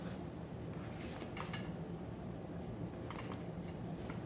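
Cutlery and a steak knife clink against a plate during a Sunday dinner meal. The taps are light and scattered, with a few brighter clinks, over a steady low background hum.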